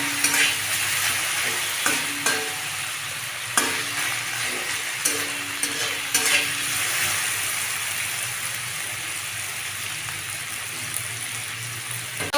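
Whole unbroken chillies fry in hot oil, a steady close sizzle with scattered clicks and a few utensil knocks, holding a constant level for the whole stretch with no talk.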